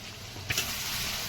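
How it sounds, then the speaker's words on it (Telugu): Sliced onions and green chilies frying in oil in a pan for a country chicken gongura curry, a steady close sizzle with a brief stir or clink partway through, with no talk. "ఈ దోరగా వేయించుకోవాలండి గోల్డెన్ కలర్లో రావాలి ఉల్లిపాయలు"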